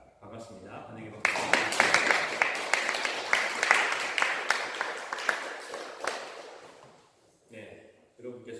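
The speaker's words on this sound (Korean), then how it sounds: "환영의 박수" A church congregation claps in welcome for a returning member at a Sunday service, a dense burst of applause lasting several seconds before tapering off, with someone speaking briefly before and after.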